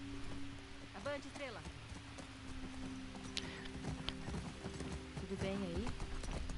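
Horse hooves trot in The Last of Us Part II video game, a quick regular clip-clop running throughout beneath spoken dialogue and a soft music bed, with a faint whinny mixed in.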